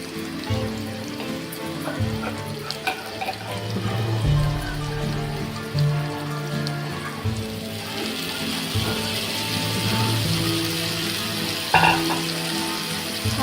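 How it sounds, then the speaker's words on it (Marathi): Stuffed kantola (spiny gourd) frying in a pan for a Maharashtrian recipe, with a splash of water added; a steady sizzle flares into a louder, hissing burst partway through and continues close and busy, with no talking. "आता किंचित मी याच्यात थोडंसं पाणी टाकते एकदम."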